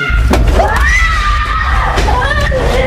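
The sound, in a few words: child screaming inside a house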